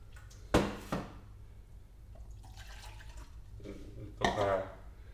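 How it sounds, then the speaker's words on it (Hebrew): Water poured from a cup into a container to prepare a sourdough starter, a short splash followed by a second brief pour, with someone speaking quietly in between. "להכנה של המחמצת אני מוסיף חצי כוס מים"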